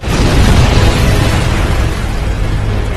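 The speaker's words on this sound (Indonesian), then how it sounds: "Dia pun langsung membobol tangki bahan bakar dan kemudian meledakkannya dengan tembakan mercon merah ini." A film explosion of a fuel tank hit by a red flare shot, a loud, dense roaring blast that holds for about three seconds, heavy in the low end, with no speech.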